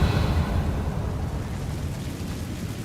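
Confringo fire spell blasting in Hogwarts Legacy, a dense roaring burst that starts loud and decays slowly into a sustained rumbling crackle, with no voices over it.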